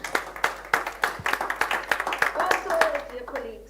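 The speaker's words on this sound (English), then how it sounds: "I thought you would clap hands when I mentioned that." Scattered hand claps from an audience at a university livestream event on the future of work, a loose burst of sharp claps running a few seconds, while a voice talks over them toward the end.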